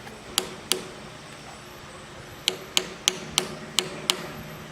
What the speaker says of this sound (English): Take your little hammer.